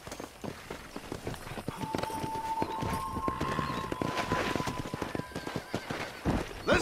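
A horse galloping under a rider in the Red Dead Redemption video game, rapid rhythmic hoofbeats pounding close and steady with a brief whinny and a sustained tone partway through, no talking.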